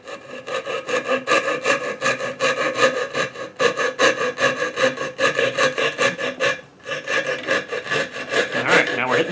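Hand saw cutting through a pinewood derby car block, steady rhythmic back-and-forth rasping strokes, close and loud, with one brief pause before sawing resumes.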